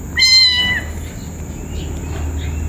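A single loud, drawn-out cat meow close by, followed by quiet room noise and faint rustling.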